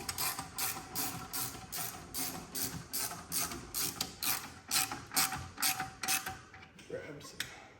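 Ratchet clicking steadily in rapid bursts while tightening a transmission bolt on a Porsche Boxster 986 during gearbox installation, close and fairly loud with a short pause near the end and no talk.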